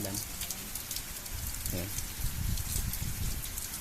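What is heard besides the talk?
heavy rain falling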